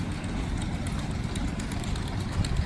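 A stationary gas engine runs at a steam show, a steady low rumbling drone with continuous outdoor background noise and no speech.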